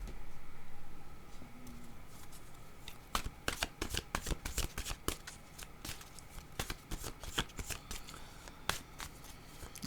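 Oracle cards are shuffled close by, a quiet start giving way to a rapid rattle of riffled, flicking cards with soft irregular snaps.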